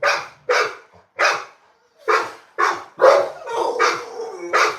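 American Bully puppies bark in about nine loud, close yips and barks, short and uneven, with no voices.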